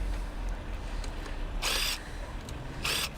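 Impact wrench loosening aluminum bolts on a 2017 BMW F700GS luggage rack: two short, loud bursts of whirring hammering, each about a third of a second, over steady background hum.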